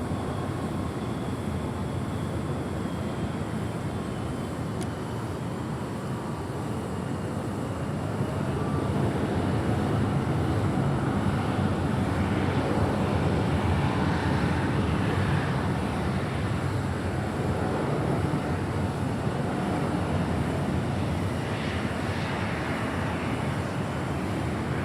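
A Delta airliner lands on runway 24 right at Los Angeles International Airport, a steady, broad jet roar that holds for the whole stretch and swells slightly midway, heard from a distance with no voices.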